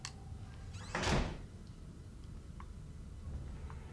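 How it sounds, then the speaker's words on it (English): A door swings shut in the horror video game Outlast, a single close thud with a brief creak in a quiet, tense room. "close the door."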